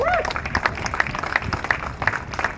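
Audience applause at a 100th-year celebration event for the Negro Leagues Baseball Museum, a steady dense clapping lasting throughout, moderately loud and close, with some crowd noise mixed in.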